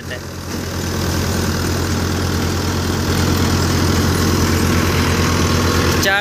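A Euro 55 four-cylinder diesel tractor drives a Multi Malwa thresher with a loud, continuous engine drone and machine rumble, running steadily throughout without letting up.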